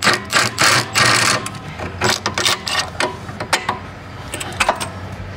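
Pneumatic impact gun working a suspension nut during a lowering-spring install on an Audi B9 S4/S5: loud, close bursts of rattling hammering, several separate runs of differing length with brief pauses between them, no talking.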